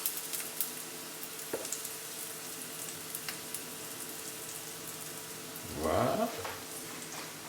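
Food finishes cooking on its second side in a pan, giving a soft steady sizzle in the background, with a brief scraping stir near the end and a voice speaking once.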